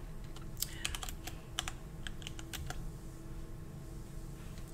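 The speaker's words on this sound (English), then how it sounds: "let me type it in here" Close, crisp clicking of a computer keyboard being typed on in quick irregular bursts over a quiet room hum, with no talk.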